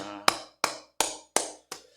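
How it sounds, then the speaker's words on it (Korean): Five sharp, evenly spaced claps ring out in a church during an online early-morning prayer service, each a crisp, close hit with a short decay, followed by quiet. "하나님께 영광의 박수 올려드리겠습니다."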